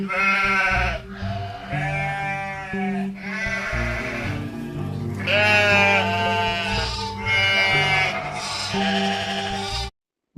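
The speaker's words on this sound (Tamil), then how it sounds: "ஆடு," Goat bleating repeatedly, loud and close, in several quavering cries running almost back to back with no other sounds.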